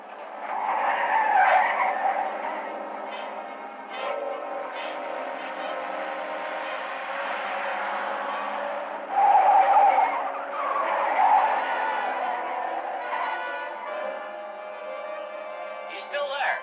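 A truck is driven hard in an old action sci-fi film, with tires skidding and squealing as the driver swerves to shake off a man clinging to its roof; the motor roars steadily with sharp skid bursts, and voices are heard.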